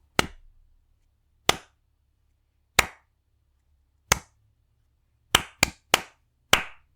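Children clap their hands during a clap freeze dance game: eight crisp, isolated claps spaced with pauses, including a quick pair near the end, with silence between them.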